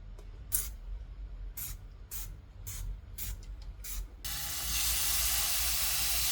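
Meat cooks quickly in a pan over high heat for zucchini roll-ups: a few sharp hissing bursts, then a loud, continuous sizzle that holds to the end.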